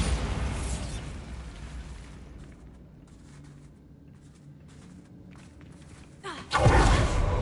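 A Bombarda spell explosion in the video game Hogwarts Legacy, a loud sudden blast near the end that follows a rumbling, fading stretch of game noise, with no voice over it.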